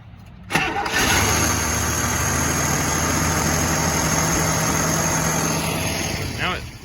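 A 1980 Scout Rallye engine that sat for 15 years cranks briefly, catches quickly and settles into a loud, smooth, even idle that keeps running steadily, with a short revving swell just before the end.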